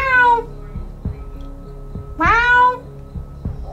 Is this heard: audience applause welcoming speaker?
no